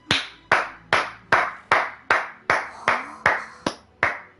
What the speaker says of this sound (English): I'm going to tell you why I'm clapping